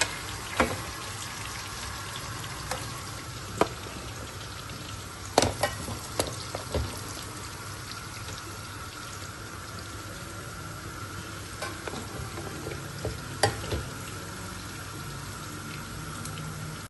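Turnip pieces fry in hot oil until lightly golden, a soft, steady sizzle with scattered sharp pops and clinks of stirring throughout.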